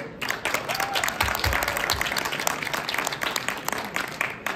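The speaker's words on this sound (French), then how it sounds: "j'aimerais qu'on les applaudisse" An audience at a Québec novel awards gala at a book fair claps steadily and densely for the nominated novels, with the applause sustained throughout and a faint murmur underneath.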